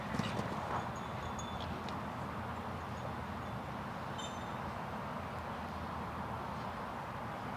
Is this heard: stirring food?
no